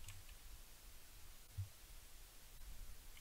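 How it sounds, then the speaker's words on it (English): Steady hissing static fills the horror video game Who's There, with faint crackles and a soft low thump midway, heard alone without voices. "Jesus, freaking static."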